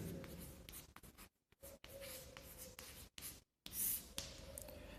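Chalk or marker scratches and taps across a classroom board as a trigonometry formula is written, in short bursts separated by brief pauses, close and fairly quiet.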